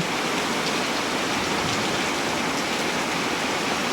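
Heavy rain pours down in Ancona, Italy, as a steady, dense downpour filling the whole clip with constant loud hiss and no pauses.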